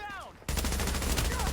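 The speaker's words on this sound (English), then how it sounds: "Oh, I heard a gunshot." Gunfire in the video game The Division, a sudden loud burst of rapid shots that starts abruptly after a brief quiet moment and keeps rattling close up, with some voice-like tones underneath.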